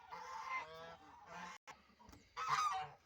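Several loud geese honking nearby in bursts, with brief pauses between the raucous calls.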